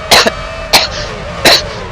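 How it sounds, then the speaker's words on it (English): Three sharp, close-up coughs from one person, evenly spaced about two-thirds of a second apart, the first a quick double cough, loud and dry against a faint background hum. "There's the cough."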